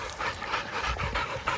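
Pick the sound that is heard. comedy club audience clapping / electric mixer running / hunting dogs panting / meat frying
hunting dogs panting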